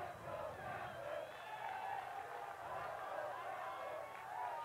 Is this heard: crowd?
yes